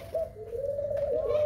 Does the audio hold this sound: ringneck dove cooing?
yes